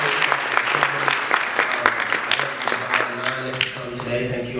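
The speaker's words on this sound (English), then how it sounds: "everybody give yourselves a round of applause for being here" A round of applause from the crowd at an Alpha Phi Alpha fraternity Martin Luther King Jr. breakfast event, steady clapping from many hands over a low background hum, with scattered voices mixed in.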